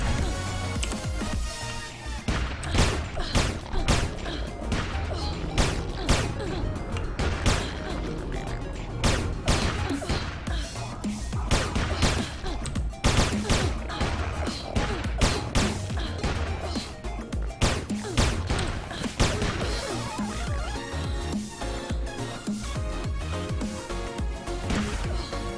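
Rapid bursts of gunfire in the online game Anarchy Online, dense repeated shots and impacts pounding steadily at close range throughout, with no talk over them.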